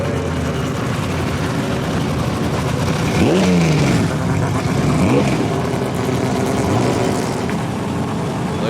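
A Chrysler E49 Charger with a HEMI Six engine races around the Phillip Island circuit, its engine roaring steadily with two rising revving surges passing by at mid distance over a constant background rumble.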